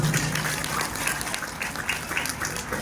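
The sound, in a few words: audience applause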